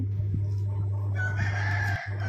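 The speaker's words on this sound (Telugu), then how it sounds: "కోడిపుంజు అరవడమైతే వినిపిస్తుంది" A rooster crows once at moderate distance near a front yard where a rangoli is being drawn in the morning, over a steady low hum.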